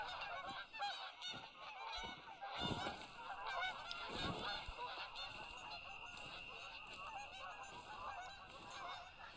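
A flock of geese honks in the TheHunter: Call of the Wild hunting game, set in the Hirschfelden reserve. The calls are repeated and overlapping, moderately distant, and carry on steadily throughout with no voices over them.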